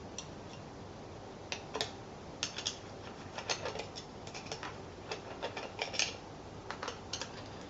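Top plate screws on a Pro-Sim H pattern shifter are worked loose with a 4mm Allen key, a series of small, sharp metallic ticks and clicks in uneven bursts, close and fairly quiet.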